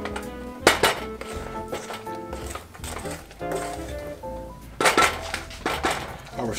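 Sugar syrup for tanghulu candied strawberries stirred in a pot, with repeated metallic scraping and clinks of a utensil against the pan at an uneven rhythm, close and moderately loud, with faint talk now and then.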